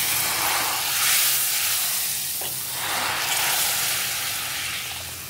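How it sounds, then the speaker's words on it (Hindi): A steady, close sizzling hiss as hot spiced tempering is poured into Udupi-style rasam, with a brief sharper burst midway, continuing without talk. "तो अब डाल देते हैं इसे"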